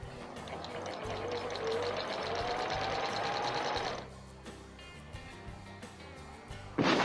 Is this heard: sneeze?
no